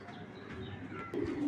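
Racing pigeons coo softly in a loft, a faint low burbling that swells slightly near the end.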